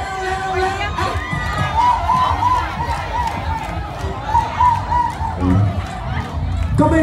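Spectators at a bicycle race cheer and shout in bursts while a commentator's voice talks loudly over the excited crowd.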